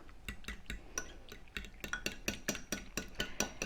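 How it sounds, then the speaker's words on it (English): A spoon briskly stirs finely ground seeds into almond milk, clinking steadily against the side of a container in a quick, even rhythm, close up and fairly quiet. "I stir those right into some almond milk"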